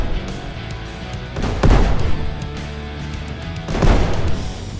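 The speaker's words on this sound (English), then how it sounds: "I'm aiming to the wheels. I'm shooting in the air." Tank cannon fire in the game Brick Rigs, two heavy booming shots a couple of seconds apart, loud and close with rumbling tails and no talking.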